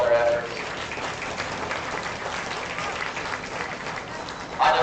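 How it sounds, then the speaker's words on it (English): Audience clapping at a 4-H county swine show, a moderate spread-out round of applause from a crowd, with a voice briefly heard at the start and end. "give them a big round of applause for all their efforts"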